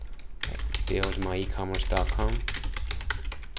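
Keys clatter on a computer keyboard while an email address is typed into a web store account form, the tapping running under a man's close, steady talk.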